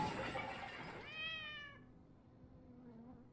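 A cat in the video game Summer of '58 lets out one clear, drawn-out meow at close range, rising out of a buzzing ambient bed before the scene falls quiet with a faint low tone.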